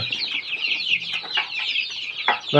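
A rooster clucks repeatedly up close in quick, chattering bursts, ending with a louder, sharper call.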